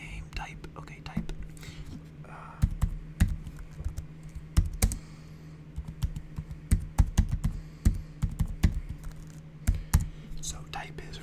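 A computer keyboard is typed on in irregular bursts of soft, close clicks and taps while someone whispers over them.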